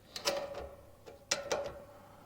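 A 10mm socket ratchets a screw tight on a lawn mower engine near its air filter, giving a few close, sharp metallic clicks and clunks in short irregular bursts with quiet gaps between.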